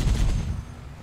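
Heavy plasma cannon fire in Halo: CE Anniversary, a dense low rumbling barrage of booming blasts that is loudest at the start and then tails off.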